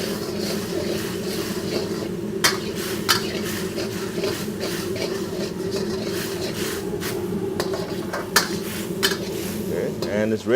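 Noodle sauce thickened with tapioca starch is stirred in a pan for a Thai rard nah dish, with steady metallic scraping and clinks of utensil against pan over a low bubbling hum, no talk.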